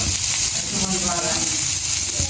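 Onions frying in oil for a Jaffna-style onion curry give off a steady, close sizzling hiss throughout, with a voice speaking over it.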